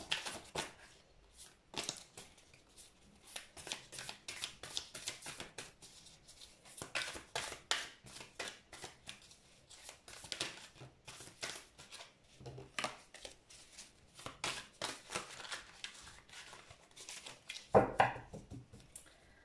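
Tarot cards being shuffled by hand in a quiet room, a long run of soft rapid riffles and flicks with brief pauses, close and fairly faint, no talking.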